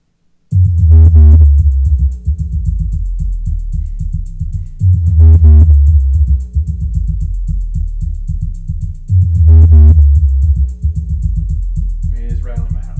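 Bass-heavy song played loud through a Sound Town Carme Series 112-SPW powered 12-inch subwoofer, deep booming low tones pulsing in a steady repeating pattern with faint higher melodic bits, running throughout.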